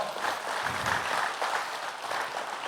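A church congregation claps together during a Pentecost Sunday service, a steady wash of applause filling the room at moderate volume for the whole stretch, with no break.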